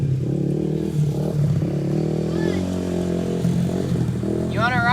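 Suzuki RM250 motorcycle engine running after restoration and smoking a little, a loud steady idle rumble with a brief rise in revs, and voices are heard over it.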